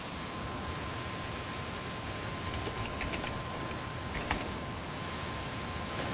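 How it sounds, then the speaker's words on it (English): Computer keyboard typing during an esports match broadcast: scattered, quick keystrokes in short bursts, fairly faint over a steady background hiss, with one sharper click near the end. "I'm typing here"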